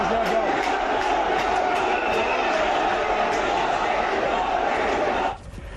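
A large crowd at the Ramdevra fair in Jaisalmer chants slogans in a loud, continuous roar of voices that cuts off abruptly near the end.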